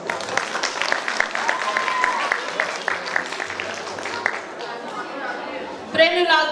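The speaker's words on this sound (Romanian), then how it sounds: "încă o dată vă rog să aplaudați" An audience at a Romanian folk traditions festival in Poduri, Bacău county, applauds with dense, sustained clapping that fades toward the end, while a voice speaks over it near the close.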